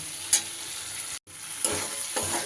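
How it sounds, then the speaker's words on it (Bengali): Potatoes and peas sauté with spices in a pan, a steady sizzle broken by quick spatula stirs and a momentary gap, close and moderately quiet with no talking. "তিন চার মিনিট ধরে বেশ ভালো করে মশলার সাথে আমি আলু মটরশুঁটি সব সুন্দর করে কষিয়ে নিয়েছি"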